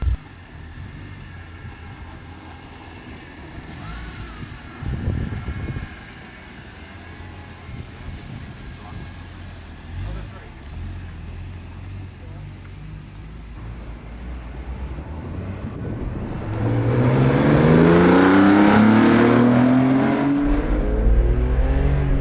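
A BMW E46 M3 CSL tribute car drives at a low, steady engine note for most of the stretch with a short burst around the middle. Near the end the engine surges loudly under hard acceleration.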